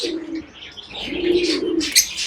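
Two drawn-out, low cooing phrases from pigeons sound close by in a pet-bird setup, with sharp chirps from smaller cage birds such as lovebirds and cockatiels breaking in near the end.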